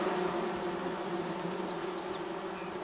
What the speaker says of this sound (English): Bees! Nice! There's honey in those bees.